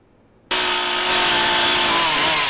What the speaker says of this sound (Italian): La motosega si fa largo tra gli alberi schiantati dalla tempesta Vaia.